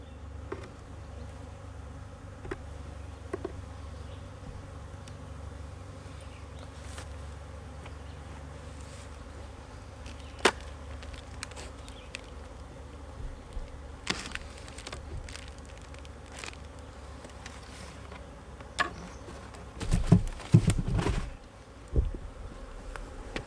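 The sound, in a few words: honeybee colony buzzing at hive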